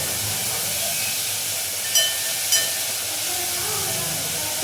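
Pepper chicken sizzles in a pan over a high flame with a loud, steady, close hiss throughout and two faint brief clicks.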